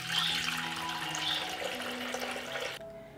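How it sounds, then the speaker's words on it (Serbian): A litre of cold water pours steadily into a 6-litre metal pressure cooker, a continuous close rushing splash that stops abruptly near the end, with no speech. "sipaću u njega litar hladne vode"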